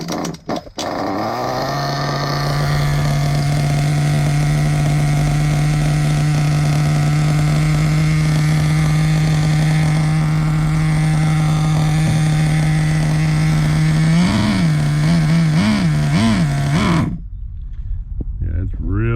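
Freshly built MP10T kit engine running through break-in, holding a loud steady drone, then revving up and down in a few surging waves before cutting out abruptly, followed by faint rattling.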